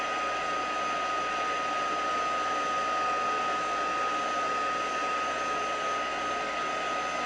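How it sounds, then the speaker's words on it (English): A heat gun blows steadily while melting embossing powder on a craft project, a constant loud airy roar with no break and no talking. "I'm going to go ahead and heat emboss this now."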